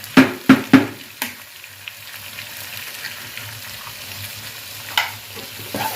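Eggs cracked into a pan with cucumber and shrimp, three sharp taps up front, then a soft, low steady frying hiss with an occasional utensil clink.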